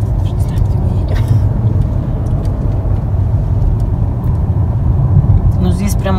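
Steady low road rumble and engine drone from inside a car driving along a road in Ohio, continuous and fairly loud, with people talking over it.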